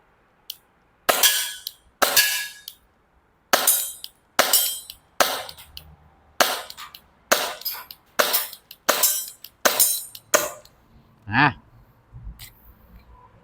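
A Tokyo Marui Bodyguard 380 airsoft pistol with a fixed slide fires at targets 10 metres away, about a dozen sharp snapping shots in a steady, evenly spaced string, close and loud, with a brief voice near the end.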